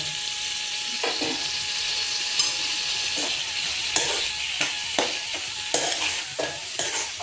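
Vegetables and tomatoes sizzling in a pan while a spatula stirs them, sharp scraping strokes recurring about once a second over a steady frying hiss, close and clear with no speech.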